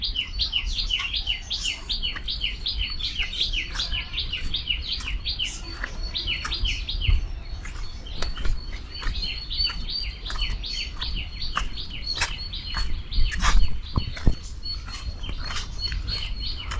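Dense, rapid chirping and tweeting from many parrots and lovebirds in a park, with high sharp calls repeating constantly over a low background rumble.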